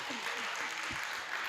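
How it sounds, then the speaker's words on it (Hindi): An audience applauding at a Hindi poetry gathering (kavi sammelan), steady dense clapping from many hands filling the whole moment without a break. "एक बार तालियों से मुझे आदेशित करिए"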